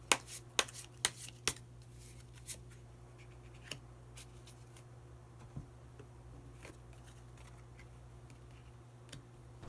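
Tarot cards are shuffled and drawn: a quick burst of crisp snaps and flicks at the start, then sparse soft card clicks against a faint steady hum.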